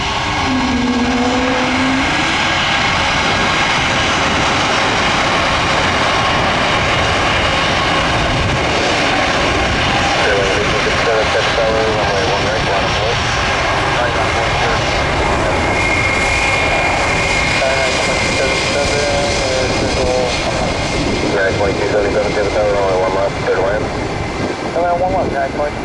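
Airplanes landing at Tampa International Airport, a loud, sustained jet engine roar close by with shifting whine as aircraft pass overhead, a voice speaking briefly beneath it.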